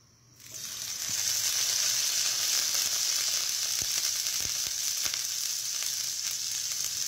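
Garlic frying in a little oil in a pan, a quiet start then a sudden close hiss that swells into a steady, bright sizzle with a few faint clicks, no talk.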